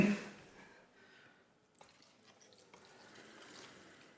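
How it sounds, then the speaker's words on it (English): Carbonated sugar-free Monster Energy Ultra drink fizzing and releasing bubbles as it is stirred with a teaspoon, a faint, steady, close hiss with soft crackling and no talking. "that's releasing carbonation there. It's bubbling away like a witch's cauldron"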